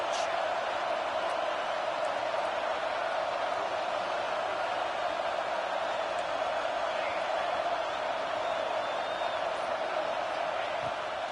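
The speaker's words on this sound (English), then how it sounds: "Third down play in the red zone, and this crowd is at fever pitch" A dense, steady stadium crowd roars through a football video game, NCAA 26, during a third-down red-zone play. The wash of noise holds at a constant level throughout, with no clear peaks or breaks.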